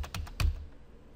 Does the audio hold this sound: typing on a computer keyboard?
yes